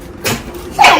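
A single sharp sneeze close to the microphone, preceded by a short breathy intake, loud and abrupt with no talking over it.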